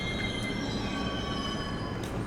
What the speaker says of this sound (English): subway ventilation chamber.